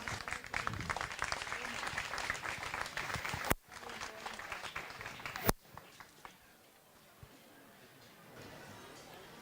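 An audience at a sustainable-tourism debate in Soria breaks into applause after a speech, a dense burst of clapping that stops abruptly, followed by quieter murmuring and scattered voices.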